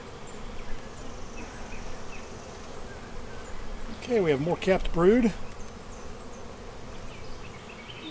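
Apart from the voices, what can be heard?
honey bees buzzing at an open hive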